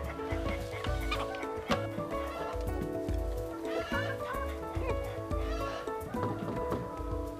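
Chickens cluck on a farm where the flock is fed only soil-grown feed, a steady layered stream of clucks and calls over a continuous background hum, fairly close and loud.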